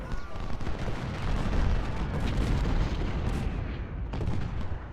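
Massed battlefield gunfire and artillery from the Civil War strategy game Ultimate General at Cedar Mountain, a dense continuous rumble of shots and booms with scattered sharper reports, steady and fairly loud throughout.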